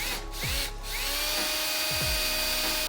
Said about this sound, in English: I'm just gonna use a step bit to put this 1/2 inch